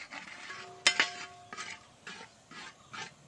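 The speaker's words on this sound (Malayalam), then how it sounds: "പൊടിയേറ്റം എല്ലാം കൂടെ ഒന്ന് മുരിയണം." Chili and coriander powder being stirred and roasted in a pan for a giant katla fish curry, with a sharp clatter near the start and a series of soft scraping strokes in an even rhythm, close by and alone.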